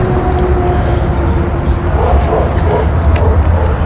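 Small dog whimpering and yipping during an obedience training session with another dog nearby, short whiny cries over steady outdoor background noise, with some talking.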